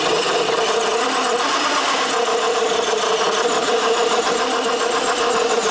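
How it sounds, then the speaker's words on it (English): High, busy whine of a 20-turn electric motor driving an RC Komodo crawler truck on Mickey Thompson tires along a backyard trail, steady and continuous with a slight fluctuating buzz. "There's that 20-turn motor giving me the wheel speed."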